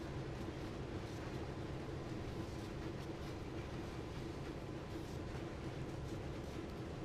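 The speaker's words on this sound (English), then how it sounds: "It's our Canadian National engines." A steady, heavy rumble of Canadian National diesel locomotive engines in Train Sim World 2020 drones on without a break, with a constant low mechanical hum and no voices.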